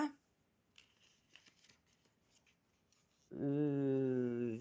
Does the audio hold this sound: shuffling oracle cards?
yes